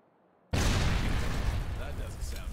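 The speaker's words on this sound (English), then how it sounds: "We'll blow the charges when we got some distance." After half a second of near silence, explosive charges in a cave in Sniper: Ghost Warrior 2 detonate in a loud blast that rolls on as a sustained roaring rumble with debris-like crackle.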